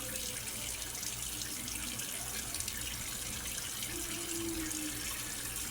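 A tap runs steadily into a sink while a dish is rinsed, a soft, even hiss of flowing water at low volume, with faint clinks and no speech.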